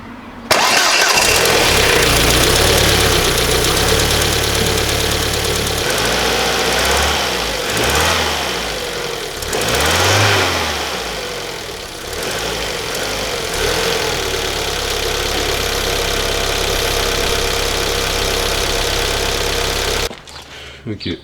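A car engine cranks and fires, then settles into a loud, slightly uneven idle with a couple of revving swells, running for about twenty seconds before cutting off, heard close up while a cheap turbo boost gauge is being fitted.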